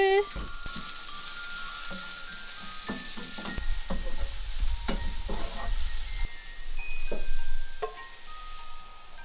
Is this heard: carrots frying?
yes